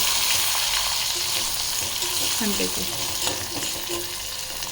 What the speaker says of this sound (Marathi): आणि आपण जे मग अशी वांग चिरलं होतं ना ते टाकायचं आहे आणि ते थोडं परतून घ्यायचं